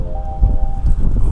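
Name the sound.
wind blowing outdoors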